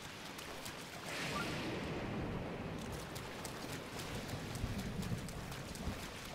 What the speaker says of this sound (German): Ja, eigentlich müssten wir jetzt nur ein bisschen abwarten. Bis es nicht mehr regnet.